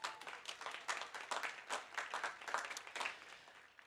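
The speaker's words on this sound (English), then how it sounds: "let's give those individuals a big round of applause" An audience at a college commencement ceremony claps in a steady round of applause, faint and distant, many hands blending into an even patter.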